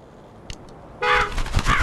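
A truck horn in the Mud Runner mobile driving game, preceded by two faint short ticks, then a loud, sustained honk that blares close for nearly a second, wavering slightly in pitch with an engine rumble beneath.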